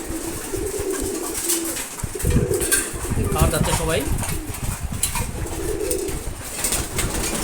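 Pigeons coo together at a pigeon farm during feeding, a steady layered murmur of low calls with occasional wing flaps, while someone talks over them throughout.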